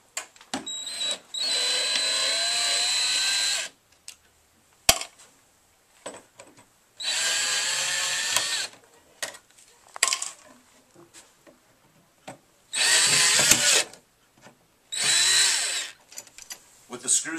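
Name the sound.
cordless drill removing screws from Footlocker corner protectors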